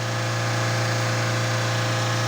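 A Fiat Doblo 1.3 Multijet Euro 5 diesel idles steadily with no throttle during particulate filter cleaning, its exhaust glowing hot; a continuous, even, close engine hum with no voices.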